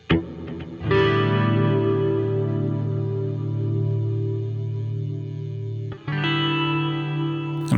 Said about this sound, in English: let's drop in a chorus